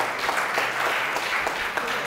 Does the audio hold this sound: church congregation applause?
yes